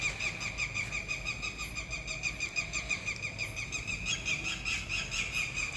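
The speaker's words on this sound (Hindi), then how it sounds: "ये परिंदा बोल रहा है" A bird calls repeatedly in a shrill, squealing series of short cries, evenly spaced and steady, heard alone at moderate distance over faint background hiss inside a room.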